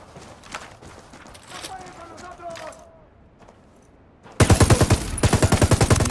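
Automatic gunfire erupts in Ghost Recon Wildlands, loud rapid bursts of shots that follow a quieter stretch of voices and footsteps.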